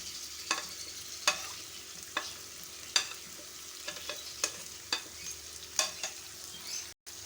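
Beef frying in a pan with cumin and white pepper, a quiet background sizzle broken by regular sharp scrapes of a spoon stirring, close, about one every half second to second, with no talk.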